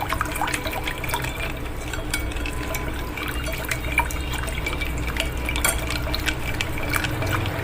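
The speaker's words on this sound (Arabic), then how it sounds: "نحط كوباية المية، دي مية عادية من الحنفية،" Ordinary tap water pours steadily from a cup into a dessert mixture, a continuous close splashing trickle with no talking.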